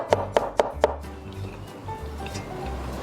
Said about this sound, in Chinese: 一样给它切丁儿